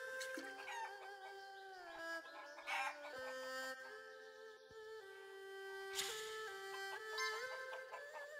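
Chickens cluck and crow in Shenmue III (PC, 2019), a steady run of bird calls over a layer of tonal game music that rises and falls throughout.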